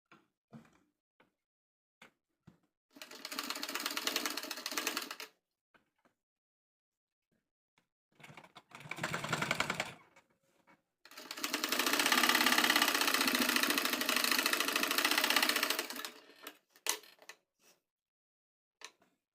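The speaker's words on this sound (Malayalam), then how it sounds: "ഇനി ഈ ഒരു സെൻറ്ററിൽ നിന്ന് 2 സൈഡിലേക്കും റൗണ്ടിന് അങ്ങ് സ്റ്റിച്ച് ചെയ്യുക കേട്ടോ" Sewing machine stitching a coat collar on a dress, running in three separate bursts of steady mechanical whirring, the last one longest, with brief quiet gaps between them and no talking.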